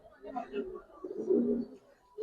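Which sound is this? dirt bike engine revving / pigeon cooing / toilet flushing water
pigeon cooing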